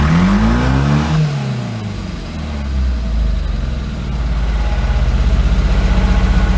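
A new mini truck's engine idles roughly and revs unevenly, a loud close hit-and-miss chugging with a rising rev at the start that settles into an irregular pulsing idle.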